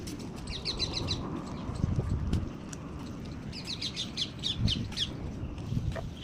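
Birds chirping around a temple pond where ducks and fish live, with short bursts of high tweets repeating against a steady low outdoor rumble, fairly faint and without speech.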